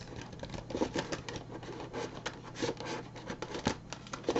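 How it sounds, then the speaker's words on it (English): Tarot cards being shuffled, a rapid papery riffle of soft flutters and clicks that comes in short bursts, close and fairly quiet. "I'm going to shuffle just a little bit."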